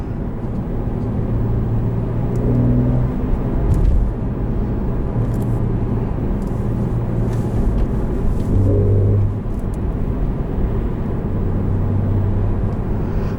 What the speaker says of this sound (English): That's one thing Porsche gets right, is just their flat sixes sound phenomenal.